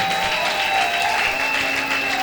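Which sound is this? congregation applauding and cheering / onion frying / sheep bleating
congregation applauding and cheering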